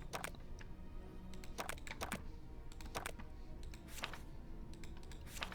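Close-up computer keyboard typing in irregular bursts of crisp clacks, some fast runs and brief gaps, moderately quiet over a low background hum.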